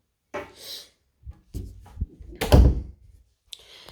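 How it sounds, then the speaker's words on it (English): A room door being closed during a move-in inspection gives a few scattered knocks and shuffles, then a solid thunk as it shuts, followed by a brief later click, all nearby with no talk. "Okay, so I'm just gonna close the door, turn the light off."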